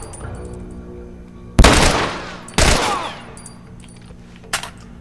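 Gunfire rings out in the video game The Last of Us during a hospital escape: two loud, close bursts of shots about a second apart, each fading with a rattling tail, then a smaller shot near the end.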